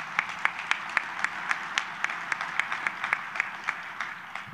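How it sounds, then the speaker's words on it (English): A conference audience at a county officials' gathering applauds local leaders, producing steady, moderately distant clapping from many hands with sharper individual claps standing out throughout. "Can we give these local leaders a big round of applause for their leadership?"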